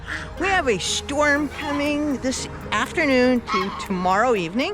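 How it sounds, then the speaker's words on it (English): Geese honk repeatedly in the background on a farm as a storm approaches, their calls mixing with and partly masked by someone talking over them throughout. "As you can hear the goose going off in the background"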